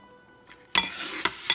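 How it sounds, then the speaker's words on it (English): Light metallic clinks of a spoon against a pot while sausage and tortellini soup with spinach and herbs is stirred, a few quick taps close by. "let's give that a stir"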